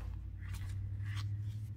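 Tarot cards, a slightly stiff deck, shuffled vertically by hand, giving a few soft close rustling swishes of card stock over a steady low background hum.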